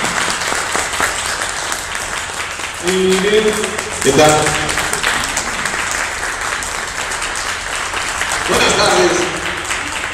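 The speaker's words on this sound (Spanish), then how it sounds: "Un aplauso" Audience applause at a posthumous tribute event in a journalists' club in Mexico City, a steady wash of clapping throughout with someone speaking over it in Spanish.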